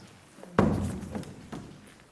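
In a radio drama, a tool strikes soft mortar in a prison cell wall with one heavy close thud, followed by a few lighter knocks spaced apart.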